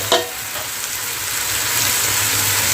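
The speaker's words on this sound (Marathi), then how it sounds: "आता आपण यामध्ये टॅमॅटो घातलेला आहे त्यालाही चांगला तेलामध्ये फ्राय करून घेऊया" Tomato sizzles in hot oil with a dense, even crackling hiss nearby, opened by a single clank of a utensil against the pan, and no speech.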